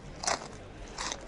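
Pretzels being chewed loudly, two crisp crunchy bites about three quarters of a second apart, close up and alone against quiet room tone.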